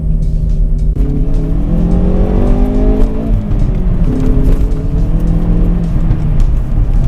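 A Hyundai i30N Performance hot hatch on Pirelli summer tyres accelerates hard, its engine note climbing through two gears with a brief shift dip, loud and close from inside the car.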